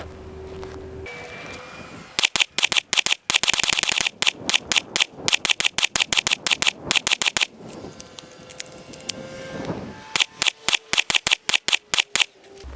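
Rapid gunshots from a handgun fitted with a Harbor Freight weapon light, a TLR-1 HL copy, fired during a round-count test. Loud, close, sharp reports come in fast strings with short pauses between bursts.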